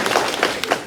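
An audience at a community gathering on transformative justice claps together, a dense burst of overlapping hand claps with a few sharper individual strikes, brief and close.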